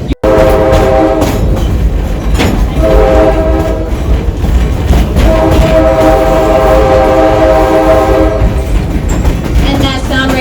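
A sightseeing train at Stone Mountain, Georgia rumbles steadily along with clattering wheels and a sustained horn-like tone, loud and continuous throughout.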